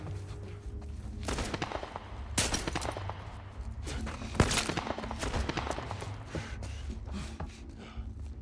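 Gunfire in a video game, with bursts of sharp shots and rattling volleys that stand out over a constant low game background, moderately loud and close.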